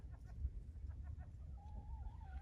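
Chickens in a coop cluck in short scattered bursts, then one bird lets out a long wavering call, all fairly faint against a low background rumble.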